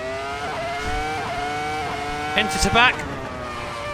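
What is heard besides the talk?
V10 race car engine at Monaco in racing video game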